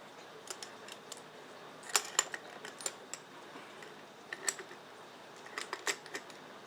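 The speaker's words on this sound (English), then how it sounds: "put the bolt back in" A bolt being fitted back into a Browning Gold Hunter shotgun, with faint scattered metallic clicks and ticks spread across a quiet room, no talking.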